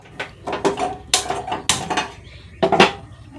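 A metal pot being set and shifted on a kitchen stove, several sharp clanks and scrapes of metal on metal at close range, spaced irregularly.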